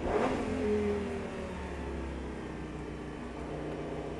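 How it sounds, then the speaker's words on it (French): A Lamborghini Gallardo engine revs up loudly at first, then settles into a steady strong drone as it keeps accelerating, with no talking. "On accélère en ouvrant le volant."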